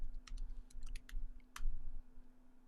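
Bursts of keyboard keystrokes as a password is typed on a computer, short irregular clicks in quick runs over a low steady hum, fairly faint and close, with no talking.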